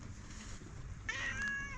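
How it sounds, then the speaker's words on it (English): A cat meows once in a yard near a boat under repair, with a short tonal cry against steady low background noise. "You're such a yard cat, aren't you?"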